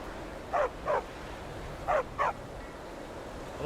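A dog in modded Skyrim barks in two pairs of quick, mid-distance woofs, clearly audible over a steady low ambient hiss.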